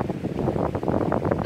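Strong wind buffets the microphone in loud, continuous rumbling gusts that roar without a break.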